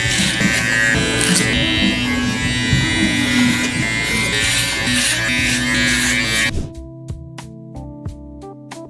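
Electric hair clippers cutting hair clipper-over-comb on top above a 3-guard during a taper fade, a loud steady buzz for most of the clip, then stopping and leaving a few faint clicks and snips.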